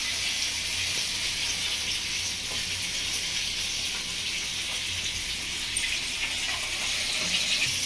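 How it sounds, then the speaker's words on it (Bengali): Fish frying in hot oil for a home-style fish curry, a steady dense sizzle that holds evenly throughout with no talk over it. "মাছ ভাজা হচ্ছে"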